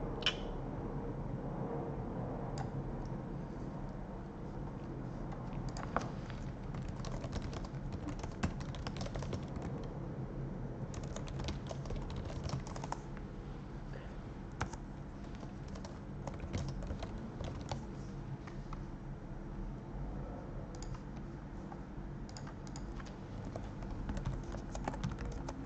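Someone types on a computer keyboard while programming C++ networking code. The keystrokes form a steady, close clatter of quick clicks that runs throughout, with no talking.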